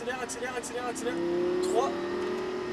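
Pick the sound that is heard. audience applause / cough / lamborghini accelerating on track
lamborghini accelerating on track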